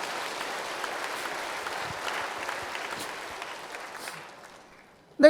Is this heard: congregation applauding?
yes